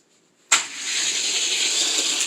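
A Ferrari California and a LaFerrari race in a video game, the sound leaping abruptly from near silence into a loud, sustained engine roar with a bright hissing edge.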